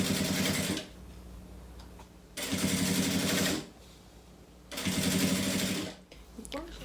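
A sewing machine runs in three sustained bursts, stitching the layers of a beach bag together, with steady close mechanical whirring and short pauses between runs.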